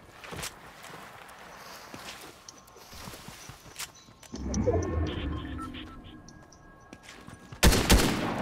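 Fortnite player's gun firing in a few scattered shots, then a louder burst near the end, over quiet background game noise.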